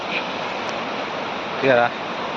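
Continuous rushing flow of water at an outdoor spot where a stream runs, a steady broadband wash, with a brief voice breaking in over it near the end.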